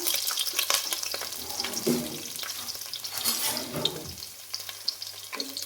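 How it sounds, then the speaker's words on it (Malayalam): Ginger, garlic and green chillies stirred in hot oil for a beef curry give a steady close sizzle with soft scraping of the spoon, a low hum underneath, and no talk. "ഇഞ്ചിയും വെളുത്തുള്ളി പച്ചമുളകും നല്ലോണം ഇളക്കി കൊടുക്കാം"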